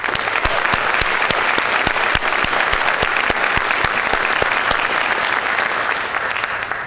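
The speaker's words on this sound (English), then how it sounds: "So I'd like to give the PTA leadership a round of applause." An audience at a high school volunteer service recognition event applauds the PTA leadership, a sustained, even burst of clapping with a few louder distinct claps standing out, continuing for several seconds without talk.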